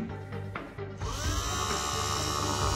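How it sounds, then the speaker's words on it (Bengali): A 12–24 volt DC drill powered by a homemade 12 V lithium battery, whining steadily and loud close up as the motor spins up and keeps running without a break. "দেখুন কত সুন্দর ড্রিল মেশিনটি চলছে।"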